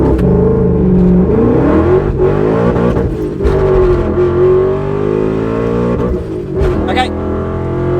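A supercharged, straight-piped BMW M5 E39 V8 roars hard under full acceleration, loud and raw, its pitch climbing in rising sweeps through the gear changes with a brief whine near the end.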